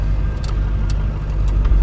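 Pickup truck engine running steadily just after an oil change, a low continuous rumble close by with a faint idle throb and small rises, no talking.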